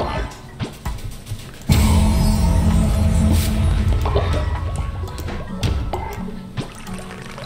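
Followers water crops in the cult-farming game Cult of the Lamb. A steady, loud pouring rush of water starts abruptly and runs for several seconds with a few light clicks and drips on top.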